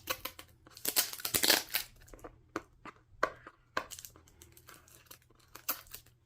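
A taped package of Cricut accessories being opened up close, with loud crinkling, tearing and ripping of tape and packaging in irregular bursts and short pauses between them.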